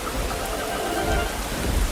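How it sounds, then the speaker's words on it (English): Steady, dense rain pours down in a Peppa Pig cartoon, a constant wash of patter with a low rumble underneath. "It starts to rain, and Peppa and George watch the drops"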